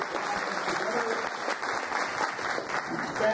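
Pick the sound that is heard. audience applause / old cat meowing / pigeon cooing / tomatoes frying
audience applause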